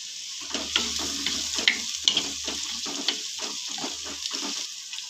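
Chopped tomatoes hit a pan of fried onion and ginger-garlic paste, setting off a loud sizzle broken by repeated spatula scrapes and clicks of stirring; no one speaks.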